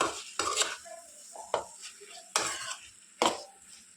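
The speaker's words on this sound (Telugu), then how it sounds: "బెండకాయలు వేసిన తర్వాత ఒకసారి బాగా మిక్స్ చేసుకోవాలి" Okra curry being stirred in a pan: several sharp scraping and clattering strokes of a spoon against the metal, spaced irregularly, close and alone.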